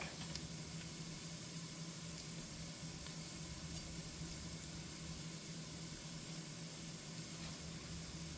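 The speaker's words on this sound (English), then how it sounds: "Okay, I'm adding my garlic now." About four cloves of garlic sizzle in a pot for a one-pot chicken and rice dish, giving a soft, steady hiss that stays faint and even throughout, with no talk.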